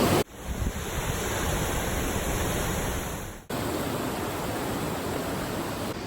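A rushing mountain stream along a hiking trail roars as a steady, broad wash of water noise, close and loud, with wind buffeting the microphone and no voices.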